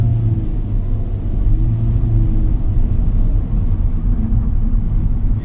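Hyundai Stargazer X with a CVT accelerating under throttle, heard from inside as a steady, loud low engine drone and road rumble with a slowly rising tone, no talking.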